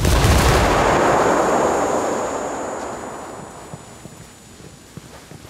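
A loud grenade blast opens, its boom decaying over several seconds, with scattered gunshots cracking in the tail during a Ghost Recon Wildlands firefight.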